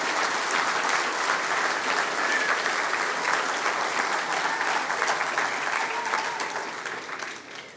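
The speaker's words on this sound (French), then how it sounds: "vous pouvez l'applaudir" An audience at a mayor's New Year address in France applauds a local woman crowned Miss Alsace, a thick, continuous wash of clapping from a large room that holds steady and then tapers off at the end.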